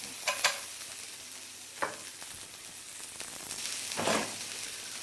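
Onions, ginger, chilies and garlic frying together in a pan on an African cooking show, giving close, intermittent bursts of sizzling and stirring with no talk.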